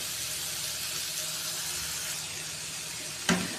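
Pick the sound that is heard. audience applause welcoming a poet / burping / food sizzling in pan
food sizzling in pan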